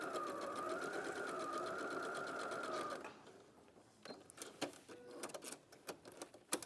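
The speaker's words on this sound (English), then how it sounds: "So let's pop it back here. And just sew straight down." A sewing machine stitches straight down a length of fabric in a steady, fast, close mechanical whir that runs for about three seconds, then stops and leaves quiet handling clicks.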